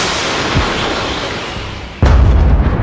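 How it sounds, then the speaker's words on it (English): Artillery strike on a battlefield: steady loud rumbling noise, then a sudden heavy boom that drops into a deep, sustained low roar, close and forceful, with no voices. "A series of precise Ukrainian artillery strikes slowed the Russian push, though they couldn't halt it entirely"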